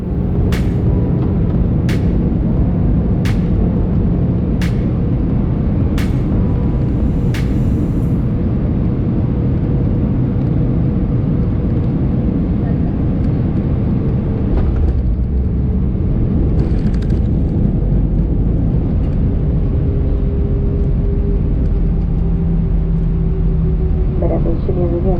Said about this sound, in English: let's get down on the ground into Paris Orly. Landing on time on runway 25.